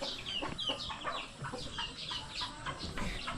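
Chickens on a rural farm clucking in a run of short, repeated calls close by, with no talking over them.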